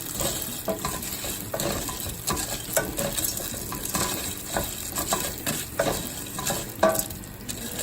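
Coditos pasta being stirred as it browns in oil in a pan, an ongoing crackling sizzle punctuated by repeated scraping strokes of the spoon at an irregular rhythm, close and fairly clear, with no talking.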